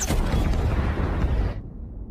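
Rockets fire and explode in a scene from the film Inuyashiki, a dense, loud, roaring blast lasting about a second and a half before it drops away to a dull, muffled rumble.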